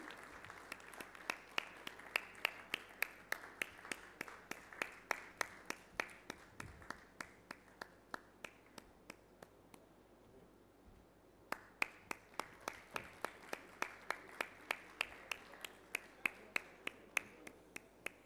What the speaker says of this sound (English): again with a big round of applause, let's invite Madhya Pradesh